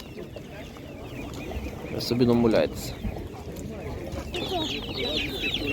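Chickens cluck at an outdoor animal market, a busy mix of clucks with one louder burst of squawking midway, while people talk nearby over the general market bustle.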